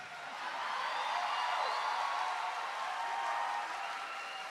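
Audience applause in a church, a steady broadband wash of clapping from a crowd, moderately loud and sustained with no talk over it.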